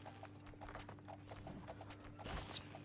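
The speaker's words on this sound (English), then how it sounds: "I don't know why that horse took so much longer to go than the other one did." Horse hooves clip-clop in a video game, a quick run of faint, irregular hoof taps over quiet game ambience.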